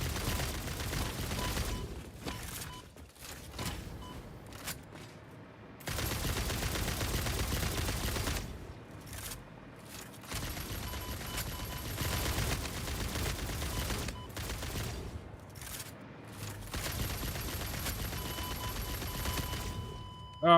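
Sustained bursts of automatic gunfire in the game Satisfactory, loud and dense, broken by brief pauses between volleys.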